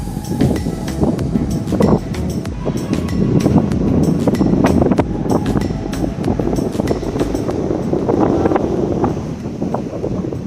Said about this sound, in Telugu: గాలి అయితే నెక్స్ట్ లెవెల్ ఉంది